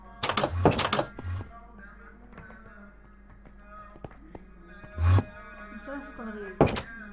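Heavy door thuds in a Minecraft backrooms map come in a few separate bursts, loud and close, with a person talking over the game sounds between them.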